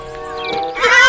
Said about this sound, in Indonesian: Wah, ini ada kuda.